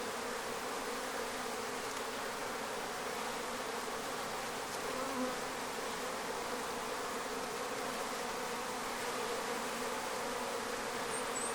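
Honeybees buzzing on a hive comb make a dense, steady hum that carries on without a break, close and even, with no voices.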